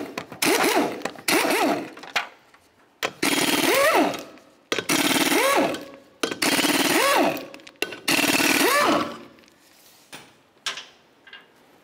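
A power impact wrench removes the 19 mm lug nuts from the front wheel of a 2005-2010 Chevrolet Cobalt, in five or six loud, close bursts of whirring and hammering, each spinning up in pitch, separated by short pauses.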